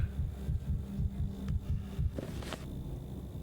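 A rapid heartbeat in the video game Pathologic 3, quick low thumps pulsing in an even rhythm over a faint hum, heard alone with no voices.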